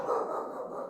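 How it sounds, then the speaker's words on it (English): Dog barking and yipping close by in a home while someone paints a watercolor, a dense burst of barks filling the full second without pause. "I knew they would start barking"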